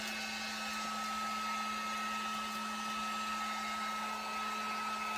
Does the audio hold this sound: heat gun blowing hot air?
yes